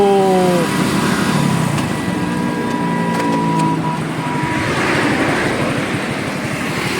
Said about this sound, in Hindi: लेकिन अगर मैं क्लच छोड़ूंगा तो बाइक एकदम से रुक सकती है